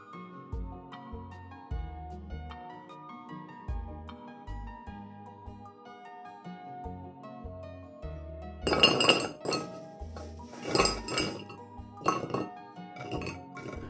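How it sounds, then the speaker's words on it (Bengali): Crisp flour snacks fresh from frying oil clink and rattle against a metal utensil and dish, with soft tapping early on, then a burst of loud, sharp clattering bunches near the end. "শব্দটা শুনে নিশ্চয়ই বুঝতে পাচ্ছেন কতটা খাস্তা হয়েছে স্ন্যাক্সগুলো"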